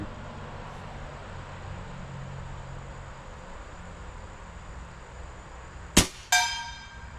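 An airgun shot fired through a Huggett moderator: a low steady hiss of background noise, then one sharp, close crack, followed a moment later by a second metallic clang with a short ringing tail.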